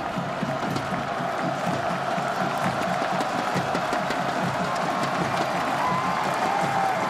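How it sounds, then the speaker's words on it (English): Large home crowd in red filling a college football stadium, Ohio against Northern Illinois, cheering and applauding around a kickoff on a sunny day: steady, dense roar with clapping, distant and continuous throughout. "Good crowd on hand"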